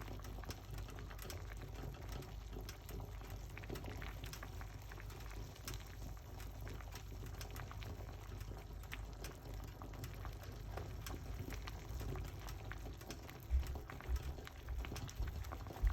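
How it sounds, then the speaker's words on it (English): Liquid bubbles and boils steadily in a pot, a low continuous rumble with faint popping, a few louder bumps near the end. "So you can see that it's boiling up, guys."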